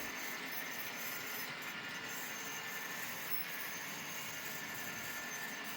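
Steady rumbling and rolling of a model train running continuously along its layout track, with a constant whine and no voices.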